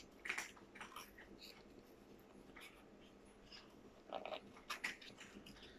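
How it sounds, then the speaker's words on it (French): Cats crunch dry kibble in a quiet room, with scattered sharp crunches in small clusters, faint and close, and no talking. "le bruit que vous entendez, c'est mes chats qui mangent des croquettes."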